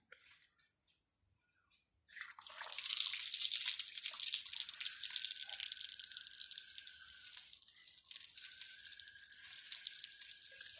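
Running tap water splashes steadily over hands being washed at a school handwashing-day demonstration, starting after a couple of seconds of near silence and continuing as a bright, even hiss.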